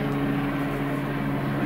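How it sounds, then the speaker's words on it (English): Helicopters flying overhead outdoors, heard as a steady, continuous low rotor drone with a droning hum, fairly loud and unbroken, with no talking. "can hear the helicopters overhead"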